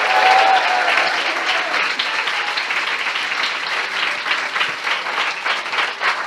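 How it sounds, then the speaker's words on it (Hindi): A large church congregation applauds loudly and continuously, the clapping dense and sustained, with a few voices faintly mixed in. "क्या हम ऐसे प्रभु के लिए एक जोरदार ताली बजा सकते हैं?"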